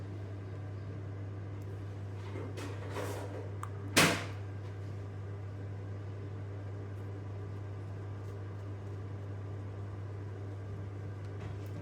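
A microwave oven heating a little apricot jam hums steadily and evenly throughout, with a door or cupboard clunk and a short sharp knock partway through, close by in a quiet kitchen.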